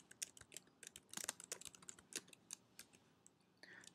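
Rapid, irregular clicking of typing on a computer keyboard as a product name is entered, close and fairly quiet, with bursts of keystrokes and short pauses and no talk.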